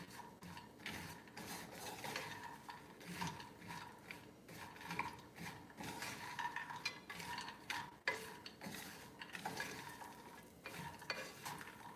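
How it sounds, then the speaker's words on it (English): Pecans toast in a small skillet, giving a continuous close crackling sizzle with a busy, rattling texture that holds steady throughout, with no talk over it. "we're gonna put these pecans right into our little skillet, guys"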